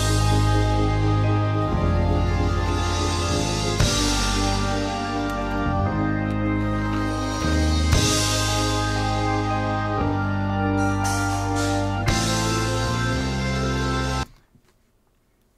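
A slow, gospel-tinged diatonic groove from a progressive rock piece, full band with sustained chords and steady pulse playing loud and dense for about fourteen seconds before stopping abruptly.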